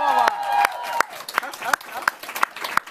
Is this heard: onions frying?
no